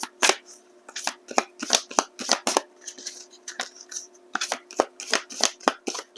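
Tarot cards shuffled and drawn by hand at close range, a quick run of crisp papery flicks, riffles and soft slaps in uneven bursts with short pauses between.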